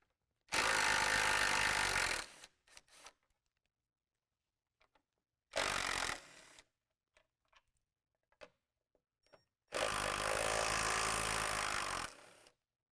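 A power tool runs on headlight bolts of a Jeep JL in three loud, close whirring bursts of about two seconds, under a second and over two seconds, with light clicks and clatter in the quiet gaps between.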